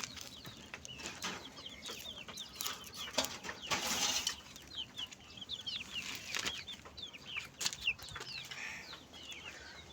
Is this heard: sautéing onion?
no